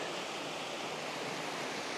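A small waterfall and creek beside a mountain campsite on the John Muir Trail near Silver Pass, a soft, constant rushing of water, faint and even throughout with no talking.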